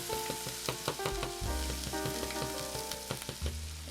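Chicken fried steak with a thick, crispy coating frying in oil that has run a little too hot, giving a steady close sizzle with crackling pops and a few louder bursts, no talking.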